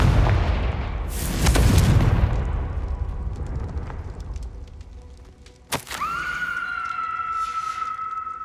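A Confringo fire spell in the Hogwarts Legacy video game erupts as a loud booming blast with rumbling low-end rush, then a sharp crack near the end followed by a sustained ringing magical tone.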